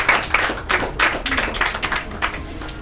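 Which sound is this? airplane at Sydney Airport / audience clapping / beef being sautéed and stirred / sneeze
audience clapping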